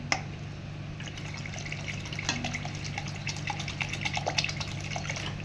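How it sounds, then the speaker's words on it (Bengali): Water is poured into a pan of lentil curry with fried lentil fritters, a soft, close splashing and trickling that keeps on steadily under a low kitchen hum. "কষানো হয়ে গেছে, এবার জল দেবো।"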